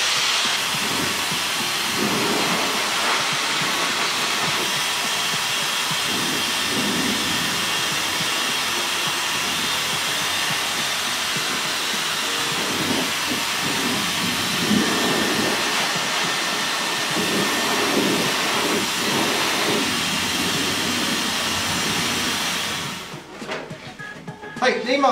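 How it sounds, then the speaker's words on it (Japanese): A Dyson styler blowing hair dry in a salon, producing a loud, steady, close airflow roar with continuous hiss that runs unbroken for most of the stretch before cutting off near the end. "乾かすのはこちらでダイソンの、まあ、早いんでね、ダイソンのスタイラーで"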